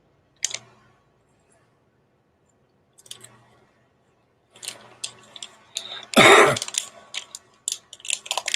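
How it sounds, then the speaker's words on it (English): A few short, throaty coughs separated by pauses, followed by a burst of rustling and clicking noises, with one loud broadband whoosh near the end. "The coughing. We can hear that."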